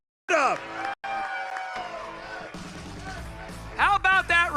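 A stadium crowd at Atlanta Motor Speedway cheers and roars for Grand Marshal Billy Gibbons before the Ambetter Health 400. The broad, sustained roar comes with whoops, and a voice speaks over it near the end.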